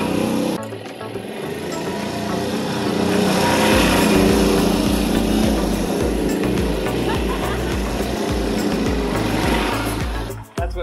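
A Yamaha G2 golf cart driving along, its small engine droning steadily and fairly loud at close range, rising slightly midway before cutting off abruptly at the end, with no talking.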